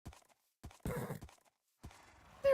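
Minecraft TerraFirmaCraft horses give scattered game-sound hoof clops, a short whinny and a rising squeal near the end, each sound brief and separated by silence.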